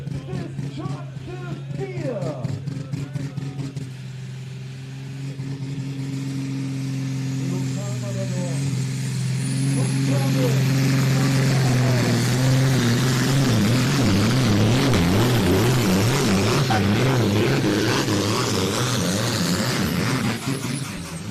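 A 3.6 ton Supersport class pulling tractor roars loudly and steadily at a tractor pulling event, its engine note climbing and warbling as the run goes on, with a commentator talking over it throughout.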